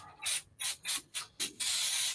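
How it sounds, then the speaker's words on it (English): Quilt basting spray (505, a water-soluble temporary adhesive) sprayed from an aerosol can in short, close hissing bursts, about six quick puffs in a row followed by a longer, steadier spray. "I'm just using a quilt basting spray"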